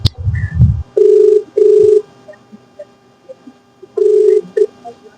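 A telephone rings during a prank call in Kannada: three loud, close electronic ring bursts in a regular pattern, with a short vocal sound just before the first ring and no talk over the rings.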